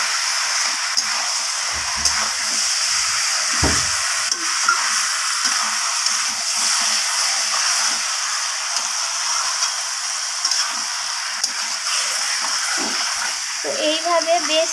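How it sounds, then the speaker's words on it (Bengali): Chicken cooks in a pan with potato, papaya and carrot, a loud continuous hiss of frying running throughout, with occasional low knocks and scraping as it is stirred, close up. "চিকেনটাকে দেওয়ার পর সব কিছুর সাথে ভালোভাবে নাড়াচাড়া করে কষিয়ে নেব"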